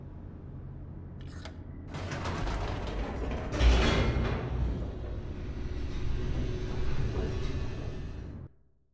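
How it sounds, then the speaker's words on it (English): Elevator plummeting downward in The Stanley Parable, a steady mechanical rumble and creaking slide with a louder clunk midway, sustained for several seconds before stopping abruptly. "The elevator raced downward"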